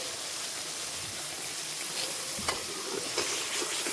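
Spices fry in oil in a pan with a steady, fairly loud hiss and a few soft crackles and stirring knocks, with no voices.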